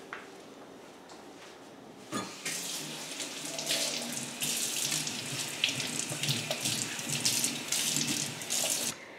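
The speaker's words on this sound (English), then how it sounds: "And then we wash them under water." Tap water runs steadily into a kitchen sink over freshly cut celery sticks being washed, a continuous hiss with splashy surges and clatter as the stalks are handled, starting after a brief quiet opening.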